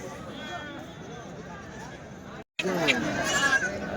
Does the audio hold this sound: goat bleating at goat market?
yes